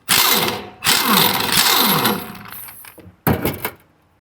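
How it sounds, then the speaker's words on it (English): Pneumatic socket gun driving a nut off the wheel of a blade grinder: several loud close bursts of whirring impact rattle, separated by short pauses, with no talk. "you'll take your socket gun and drive this nut off"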